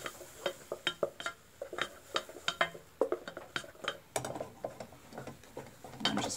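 Melted marshmallows being stirred quickly in a pot, heard as a rapid run of close clinks and scrapes of a utensil against the pot, with no talking.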